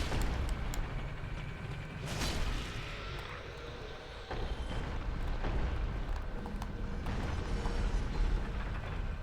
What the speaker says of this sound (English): That's the sound of the boulders changing direction so that they can now come this way and obstruct my path here.